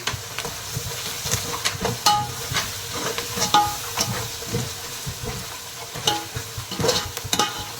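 Chopped coriander and mint are stirred into sizzling chicken biryani masala, with repeated spoon scrapes and clanks against the pan over a soft, steady frying hiss, close and without talk.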